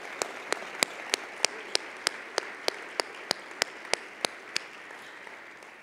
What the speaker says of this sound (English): And I'd like to give that a round of applause.